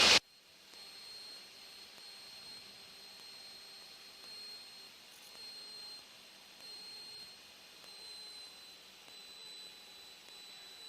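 Light aircraft engine cruising at a reduced RPM setting, a steady, fairly quiet drone with a constant tonal hum, continuous and unbroken throughout with no talk.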